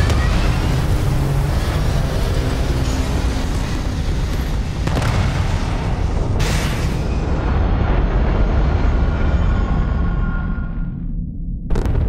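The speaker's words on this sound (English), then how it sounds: "All thrusters firing." A loud, continuous roar of starship thrusters in Starfield, heavy and broadband from start to finish, swelling in places and then cutting away sharply near the end.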